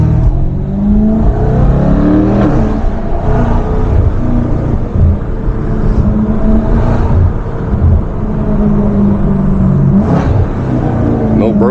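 A 640-horsepower BMW M550i at night, its exhaust roaring steadily through hard acceleration pulls, loud and close from inside the car, with engine drone continuous throughout.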